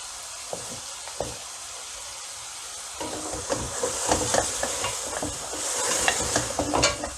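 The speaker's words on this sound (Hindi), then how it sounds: "ये देखें तेल खुद ही ऊपर आने लगा। इसका मतलब अब हंडी भुन रही है।" Mutton trotter masala roasting in oil in a handi pot, a soft sizzle broken by a few scrapes, then livelier stirring with repeated scraping and bubbling frying that grows louder toward the end.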